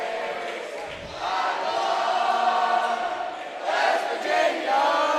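A crowd at a high school varsity basketball game between the Owensville Dutchmen and St. James Tigers sings together, a loud, sustained mass of voices filling the gym.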